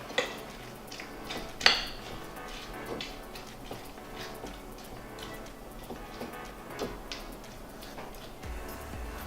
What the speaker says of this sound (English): Gonna grab a spoon, mix it up a little.